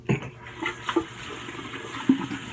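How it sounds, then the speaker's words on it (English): Running tap water rinses a shaving brush, a steady close splashing stream broken by several sharper knocks and splashes as the brush is worked under the flow. "I'll go ahead and rinse my brush"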